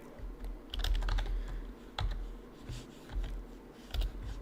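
Quiet typing on a computer keyboard, with irregular bursts of close, crisp key clicks separated by short pauses.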